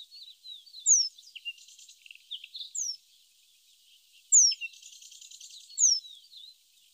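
A penduline tit in a Mediterranean setting gives thin, high-pitched descending calls, repeated in short bursts about every one to two seconds, with softer twittering between, alone against a silent background.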